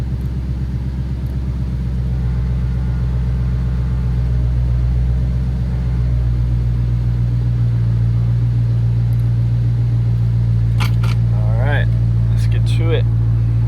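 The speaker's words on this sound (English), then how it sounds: "Car fires right up, absolutely love it." A Dodge Challenger Scat Pack 392 idles with a deep, loud, steady V8 rumble that swells slightly in pitch partway through, heard from inside the car, with brief chirps and beeps near the end.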